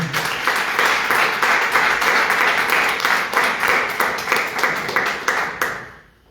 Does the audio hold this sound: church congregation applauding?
yes